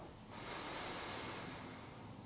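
One long, deep breath during a slow yin yoga session: a soft, steady airy rush that swells and then eases off, close to the listener, with no speech.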